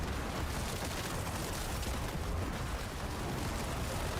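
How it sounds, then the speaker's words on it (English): Dense, continuous blasts from the Unmaker weapon in Diablo 4 roar without pause, a thick wall of overlapping explosions and crackling booms, loud and unbroken with no talk. "Look at how the Unmaker is essentially sending out explosions"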